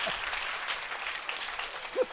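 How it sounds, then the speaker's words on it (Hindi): A crowd applauds loudly and continuously at a live Hindi husband-and-wife comedy show. There is a brief vocal sound near the end. "एक बार जोरदार तालियां बजाइए।"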